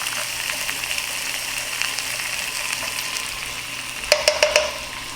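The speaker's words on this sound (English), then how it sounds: "We want to get a nice sear on these shrimp, stir them around to make sure all of them get cooked" Shrimp sear in a hot pan for spicy sausage and shrimp alfredo, a steady close sizzle with a quick run of four scraping stirs near the end.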